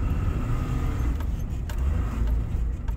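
A first-generation Cummins diesel truck with a shift linkage problem pulls away from a stop under heavy throttle, a loud, close, deep engine roar that holds steady with a faint rattle on top.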